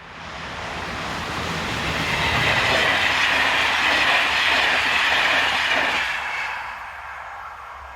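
SNCF Class 26 locomotive 26051 hauls the 901 passenger train from Paris to Clermont-Ferrand past Paris South, a loud steady rumble and rush of wagons with faint clickety-clack that swells mid-pass and fades as the train moves away.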